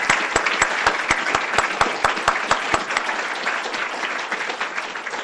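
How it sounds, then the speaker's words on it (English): An audience at a medical department's celebratory awards session applauds award winners, starting with sharp rhythmic unison claps that give way to a dense, sustained round of clapping. "let's give the award winners another round of applause"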